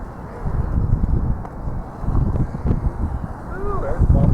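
Gusty wind buffets the microphone outdoors, with uneven low roaring bursts rising and falling under intermittent speech.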